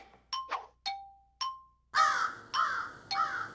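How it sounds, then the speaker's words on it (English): Crows cawing in a forest at night, a series of about seven sharp, ringing caws, some nearer and louder than others, spaced irregularly with short silences between. "No, it was crows."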